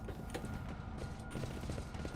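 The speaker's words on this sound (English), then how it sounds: "The dull sounds produced by the ventilation system create the illusion the ship is breathing like a living and" Low mechanical droning and creaking of a starship's ventilation system in the Warhammer 40K Rogue Trader video game, a steady dull rumble with faint ratcheting clicks throughout, no talk.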